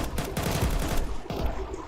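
Rapid video game gunfire rattles in quick repeated bursts, fairly close and steady, filling a brief stretch with no talk.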